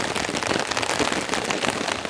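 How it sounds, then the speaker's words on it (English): Heavy rain pouring down on a tent during a storm while camping, a dense, steady hiss of drops drumming close on the fabric throughout, with no pauses or talk. "There's a real deluge at the moment. This is the heaviest the rain has been the whole time."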